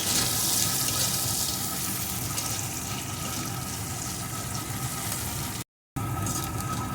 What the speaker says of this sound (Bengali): এখন এই তেলের ভিতরে দিয়ে দেবো একটা পেঁয়াজ কুচি। পেঁয়াজ কুচিটা একটু ভেজে নেব